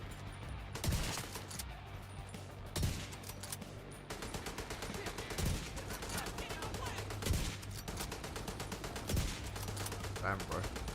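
Gunfire in The Division 2 shooter game, repeated bursts of automatic shots and single heavy reports spread across the stretch, loud and close over a constant rumble.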